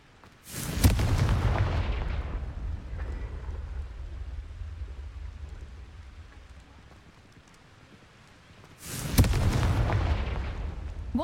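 Two Confringo spell explosions in the video game Hogwarts Legacy, each a loud booming blast followed by a rumbling decay, spaced several seconds apart with a quieter stretch between them.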